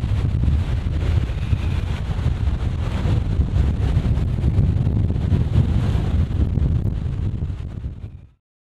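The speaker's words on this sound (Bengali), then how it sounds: "প্রচন্ড পরিমাণে বাতাস" Strong wind buffets the microphone beside a river in Sharankhola where small boats are moving, a loud continuous roar and rumble that fills the scene steadily before cutting off abruptly near the end.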